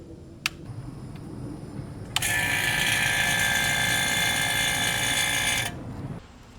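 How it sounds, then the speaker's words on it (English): A vacuum pump starts up on a Nissan Armada air conditioning system whose cooling was weak, a steady loud high-pitched mechanical whine and rattle running for a few seconds before cutting off, with a brief click beforehand. "I'm going to vacuum the system for 30 minutes."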